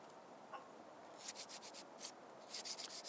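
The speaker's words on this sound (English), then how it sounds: "Then I filed the inside" A hand file rasps inside a homemade steel socket in quick, faint strokes, with a burst of several short scraping passes followed by a few more near the end.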